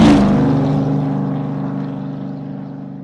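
A BMW E46 engine fitted with a short ram cold air intake is revved, starting as a loud, strong burst. Its tone then falls away and settles steadily over about three seconds, with no one talking.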